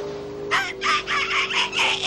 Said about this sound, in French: Bienvenue, mon petit poulet.